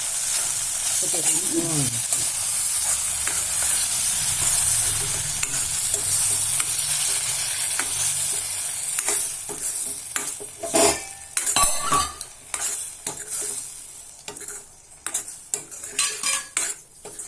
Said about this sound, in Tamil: அப்படியே கிண்டிகிட்டே இருக்கணும்